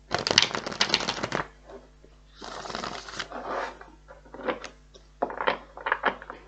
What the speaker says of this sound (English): I just want to shuffle these first.